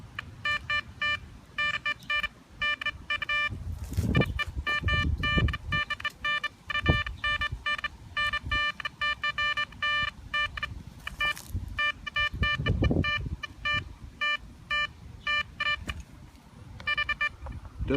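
A Blisstool V6 metal detector with a 7x9 inch coil in discriminator 1 mode gives repeated stuttering electronic target tones in short bursts, loud and close, over wind-like rumble and scraping ground noise.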